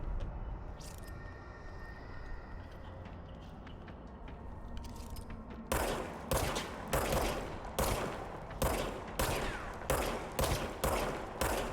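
Gunfire from a weird-looking gun in the video game Control: after a quiet stretch, a rapid series of about ten sharp, loud, evenly spaced shots rings out close up, with no talking.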